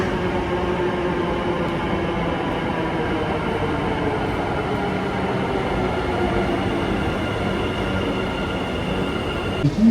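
A Bengaluru Metro train running, heard from inside the carriage as a steady rumbling roar with faint rail whine, continuous for the whole stretch and without talk.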